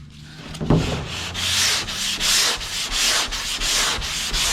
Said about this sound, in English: I'm sanding on the primer.